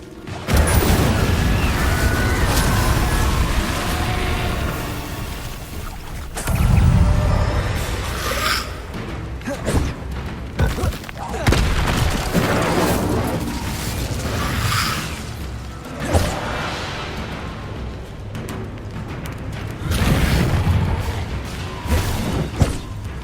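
Incendio fire spells blasting repeatedly in the Hogwarts Legacy video game, loud booming bursts and fiery whooshes in quick succession amid combat effects.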